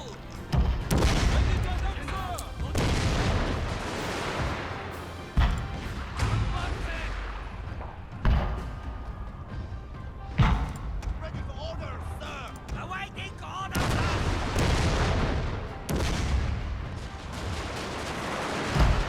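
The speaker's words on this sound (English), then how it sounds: "let's bombard them there so they move forward" Artillery bombardment and gunfire in a battlefield video game: repeated heavy booms and crackling volleys keep coming throughout, loud and layered, with game voices and talk running underneath.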